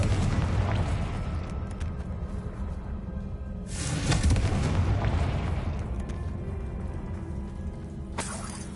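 A Confringo explosion spell in the video game Hogwarts Legacy goes off as loud booming blasts over a continuous rumbling battle bed, with a strong burst near the middle and another sharp one toward the end.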